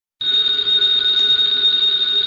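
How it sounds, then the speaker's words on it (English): An old-time telephone bell rings in one continuous, loud, close metallic trill that starts abruptly and holds steady, alone without voices, opening a radio mystery drama. "the ringing of that phone bell means mystery, adventure."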